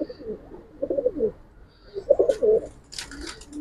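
A pair of Giribaz pigeons cooing nearby, with two distinct bursts of low, throaty coos separated by a short pause, plus a few faint higher chirps, no talking.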